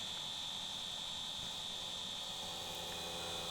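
A wood lathe spins a yew bowl at 1400 RPM while a 40/40 grind bowl gouge cuts it, making a constant, loud whine and hiss that holds steady, with no voices.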